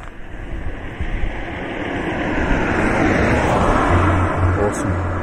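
A car on the N240 road approaching, its wind-rushed tire and engine noise swelling from faint to a loud close roar, with a brief low hum near the end.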